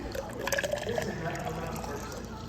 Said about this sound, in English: So I've already steamed my milk. I'm gonna fill it up to 2 cups. Pour that in.